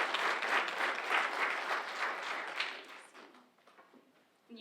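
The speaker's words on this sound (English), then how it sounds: "let's give them a round of applause." Audience applause at a senior awards ceremony, a steady wash of many hands clapping that fades away over the last second or two and ends in near quiet.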